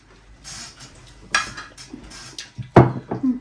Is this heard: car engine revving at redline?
no